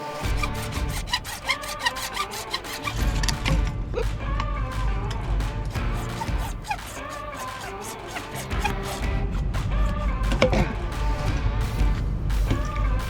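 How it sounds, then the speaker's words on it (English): A hacksaw cuts through a broken section of plastic irrigation pipe in a lawn, with rapid, rhythmic back-and-forth rasping strokes close up and brief pauses between bursts. "we're gonna get a hacksaw, cut right here and cut right there, and replace this whole broken section"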